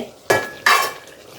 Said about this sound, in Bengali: মশলাটা মেখে দিচ্ছি একদম, এই যে একদম মাখা হয়েছে।